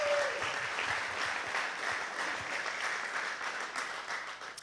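An audience at a live boxing promotion event in San Antonio applauds steadily, a dense wash of clapping at moderate distance lasting several seconds, with faint voices and a brief tone at the start.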